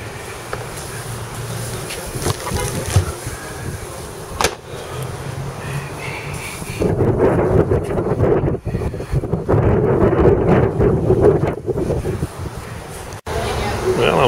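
Strong outdoor wind buffets the microphone at a knife-sharpening stall outside a Whole Foods store among flowers, a loud, constant low rumble with gusty swells.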